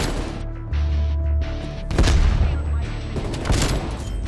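Fast bursts of XM4 assault-rifle fire from the video game Black Ops Cold War rattle loudly alongside explosive booms over a constant game soundtrack.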